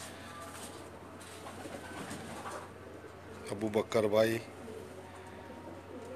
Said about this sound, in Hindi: माशाल्लाह बहुत प्यारे कबूतर है